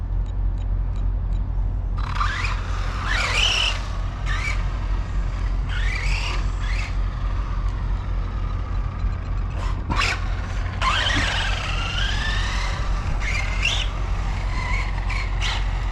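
An Arrma Typhon 3S RC car driving in a parking lot, its electric motor whining up and down in several short bursts over a steady low rumble, with no talking.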